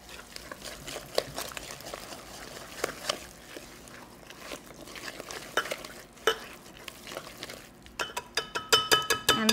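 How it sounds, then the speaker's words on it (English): Egg and honey batter whisked in a bowl, with quick scraping strokes and metallic clinks against the sides that grow faster and louder toward the end, fairly quiet overall. "We're gonna whisk this together until that egg gets beaten"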